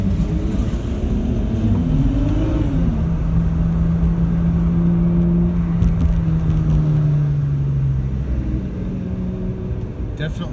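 A 2008 BMW 328i coupe engine droning loudly and steadily through a track lap, pitch rising and sliding through gear changes and then falling away, with a voice talking over it.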